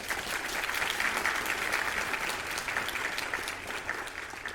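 Audience applause at a High Desert Sports Foundation scholarship and awards ceremony, a sustained wash of many hands clapping at steady volume with no speech over it.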